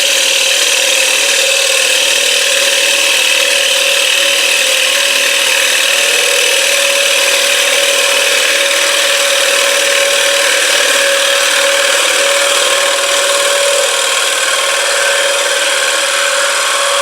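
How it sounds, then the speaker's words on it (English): A gouge shaving wood on a woodturning lathe during a turning demonstration: a steady, loud scraping hiss with a constant motor whine underneath, unbroken for the whole stretch with no talk. "I'm gonna cut backwards into this just a little bit right here on the edge to make a ledge in there for me to put my gouge on"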